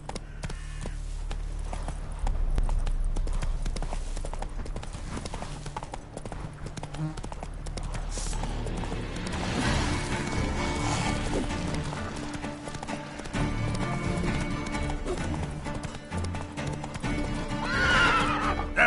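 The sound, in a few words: horse Roach galloping in video game The Witcher 3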